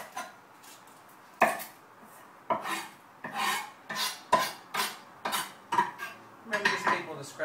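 Knife blade tapping and scraping on a cutting board as garlic cloves are topped and tailed, a run of about ten close, crisp chops and scrapes at an irregular rhythm, with no talking.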